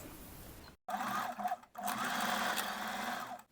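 Domestic sewing machine stitching a short backtack across elastic on fabric, running in two quick bursts separated by a brief pause, close and steady with a whirring motor and needle rattle.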